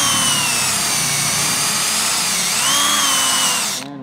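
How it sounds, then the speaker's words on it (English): A power drill whines steadily up close, boring spot weld holes in a metal rust repair patch on a 1969 Road Runner, its pitch shifting slightly before stopping abruptly. "I'm just gonna go ahead and drill a couple spot weld holes"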